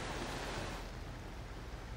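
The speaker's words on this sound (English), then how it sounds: "we have a nice little waterfall coming down, leading to a pool" A small waterfall on Brush Creek near the Kern River pours into a pool, making a continuous broad rushing wash that stays close and steady throughout.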